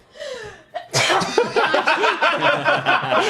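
A sharp sneeze bursts out after a brief breathy intake, followed by excited laughing voices and chatter.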